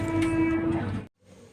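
A Vande Bharat train horn blares steadily over rumbling rail noise as it arrives at Kottayam station, then cuts off abruptly, leaving a quieter hum.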